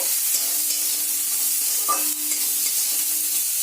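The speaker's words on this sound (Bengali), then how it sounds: "আমগুলো ভালো করে ভেজে নিতে হবে" Mango pieces fry in a pan with spices, a steady bright sizzle throughout and a few soft scrapes of a spatula stirring, close and alone.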